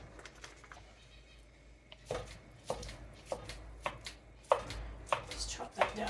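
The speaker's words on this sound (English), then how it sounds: "Just chop that down." A pound of ground beef being chopped apart in a Dutch oven, about ten dull rhythmic thuds and scrapes of a utensil against the pot after a quiet start, close and fairly soft.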